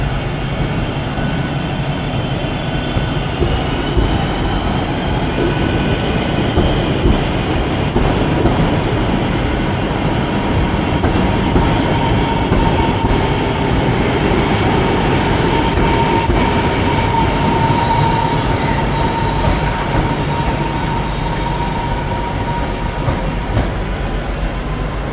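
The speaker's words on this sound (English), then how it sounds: "let's hit the rails to see what comes in and out of Manchester Piccadilly on a Tuesday lunchtime" Trains moving through Manchester Piccadilly station on a Tuesday lunchtime: a loud, unbroken rolling rumble of rail cars lasting throughout, with drawn-out metallic wheel squeals rising in the later part and no talking.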